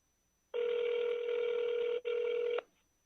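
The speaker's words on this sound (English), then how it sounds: "Come on, Pedro, answer your phone." Telephone ringback tone on an outgoing call, one long electronic ring of about two seconds with a brief break near its end, clear and isolated against silence.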